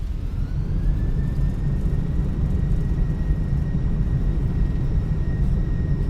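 A319 airliner engines roaring in reverse thrust during landing in a flight simulator game, a loud continuous broadband rumble with a faint steady whine on top, unbroken throughout.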